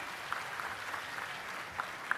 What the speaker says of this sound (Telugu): ఆయన గట్టిగా చప్పట్లు కొట్టి అభినందించండి